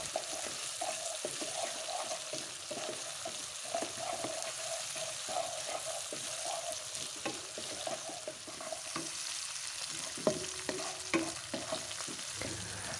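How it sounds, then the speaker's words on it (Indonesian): Fried shrimp paste (terasi) and spices are stir-fried in a pan, with a steady sizzle under continuous rhythmic scraping and stirring strokes throughout, close and moderately quiet. "Kemudian tumis kembali hingga terasinya hancur dan bumbu juga layu."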